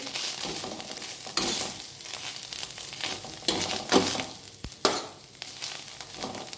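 Thick greens paste cooking in a kadai over medium heat, sizzling steadily while a spoon stirs and scrapes in irregular strokes, with a few sharp clacks against the pan, close and moderately loud with no talking.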